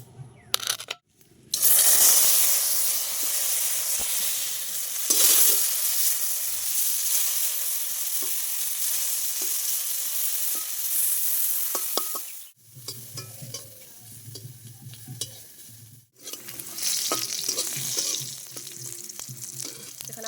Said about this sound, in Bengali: এখানে দেখো কারকল ভাজা হচ্ছে নুন হলুদ মাখিয়ে নিয়েছি। এবার হচ্ছে ভেজে নেব।